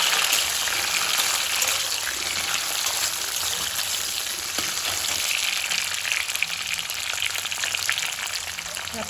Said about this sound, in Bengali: এখন দিয়ে দেবো টমেটো কুচি।